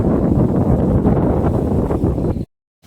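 Strong wind buffets and roars across the microphone in a continuous rush, then cuts off suddenly into near silence.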